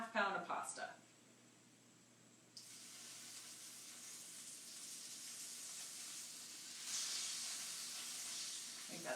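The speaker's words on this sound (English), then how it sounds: "It is sizzling, but I need that water to kind of boil a bit." A steady, fairly quiet hiss of pasta water sizzling in a hot pan for cacio e pepe, swelling louder near the end after a brief lull at the start.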